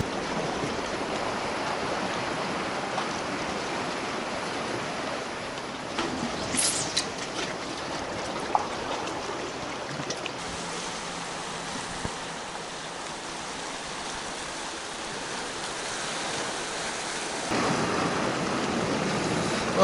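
Small waves pushed in by a southeasterly wind lap at a sea shore, a steady soft wash of surf with wind noise, continuous and moderately close.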